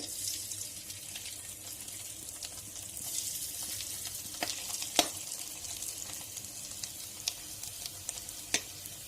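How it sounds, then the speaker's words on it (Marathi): Poha chakli frying in hot oil gives a steady, soft sizzling hiss with a few sharp pops and crackles, heard alone at low level. "आता मी तळून दाखवते तळण्यासाठी तेल चांगले गरम करायचे"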